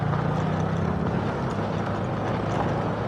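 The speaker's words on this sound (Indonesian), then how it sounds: "Ada truk kebun." A plantation truck passes on a road near a rail bridge, its steady low rumble and broad road noise filling the whole stretch without any talk.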